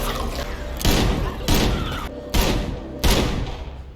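Four heavy gunshot blasts from The Last of Us TV series, loud broadband bursts spaced roughly half a second to a second apart, each with a booming low-end thump and a short reverberant tail.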